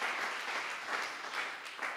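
Church congregation applauding during a service, a soft, continuous patter of many hands clapping in a room, fairly distant and even.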